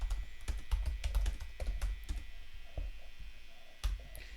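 Quick, irregular keystrokes on a computer keyboard, close and fairly quiet, clustering in bursts and tapering toward the end with a final louder tap.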